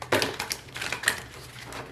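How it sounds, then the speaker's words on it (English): Tarot cards being shuffled by hand at close range, a few quick papery riffles and slaps in short bursts. "Give the cards a couple of shuffles here."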